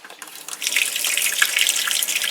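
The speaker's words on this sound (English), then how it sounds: "And then the shower does work also." A shower running inside a small camper, water switching on and then spraying steadily with a hissing, splashing rush close by.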